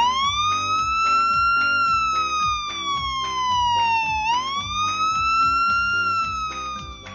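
A cartoon ambulance siren wails alone in a steady electronic tone, sweeping smoothly up and down with a bright, loud, synthetic quality over a rhythmic bouncy backing beat.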